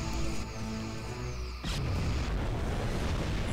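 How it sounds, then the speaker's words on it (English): In a space battle video game between starships, a ship explodes with a sudden loud blast about midway, following a sustained hum of weapons and engine tones and leaving a rumbling, crackling roar. "Big explosion there."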